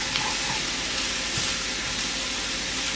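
Chopped onions and tomatoes sizzle steadily in a hot pan for picadillo, a continuous close hiss of frying with faint stirring clicks and no talking.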